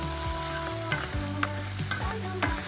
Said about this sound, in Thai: ผัดให้ใบกะเพราโดนความร้อนให้หมด